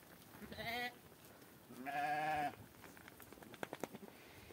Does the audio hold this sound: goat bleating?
yes